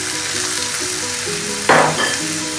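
Tomato sautés with onions in a hot pan for sardine biryani, a close steady sizzle with a sudden louder hiss burst as ingredients hit the oil.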